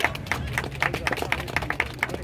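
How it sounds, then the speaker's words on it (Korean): An audience clapping along in rhythm at a traditional Korean buk and janggu drum performance, sharp regular claps in a close, lively beat with a low rumble underneath. "박수 한번 쳐보세요"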